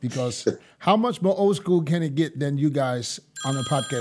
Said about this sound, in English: Hold on, that's my phone.